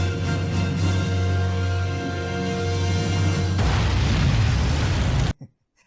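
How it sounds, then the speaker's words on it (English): A grenade goes off in Batman: The Animated Series. A sustained roar is layered with ringing tones, then a harsh noisy blast follows and cuts abruptly to near silence. "before setting the place off with a grenade like a gangster"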